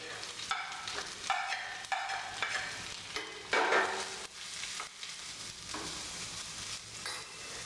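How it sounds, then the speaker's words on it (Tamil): Carrots, green chilli and curry leaves stirred in a hot pan for kara kozhukattai, with repeated close scraping strokes over a soft sizzle and one louder clattering stir in the middle. "இப்போ இந்த கேரட்டையும் போட்டு ஒரு கிண்டு கிண்டிக்கங்க"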